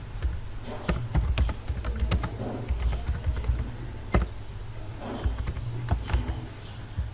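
Fast, irregular keystrokes clatter on a computer keyboard as someone types HTML code, a steady run of close, crisp clicks with a few louder key taps, and no voices.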